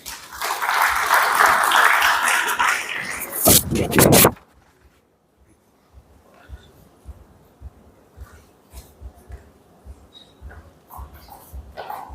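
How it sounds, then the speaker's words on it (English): Audience applause at a book launch honouring King Mohammed VI, a burst of loud clapping for about four seconds that cuts off abruptly, followed by a quiet room with faint shuffles and knocks. "A round of applause for him, please."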